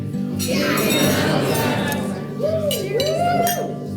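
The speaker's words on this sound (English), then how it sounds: "please be upstanding to toast the happy couple, Amy and Alistair." Glasses clink during a wedding toast to the newly married couple, bright ringing chimes over a steady murmur of crowd chatter from the guests in the room.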